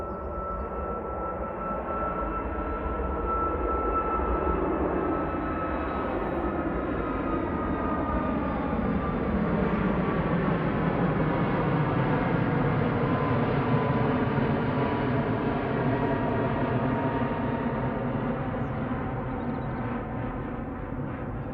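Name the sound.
airliner on its take-off roll at Manchester Airport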